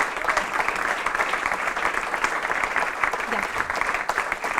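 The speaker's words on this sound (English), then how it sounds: "I think we should give you all a round of applause" Steady applause from an audience at a city summit, a dense patter of many hands clapping at moderate volume throughout, with no break.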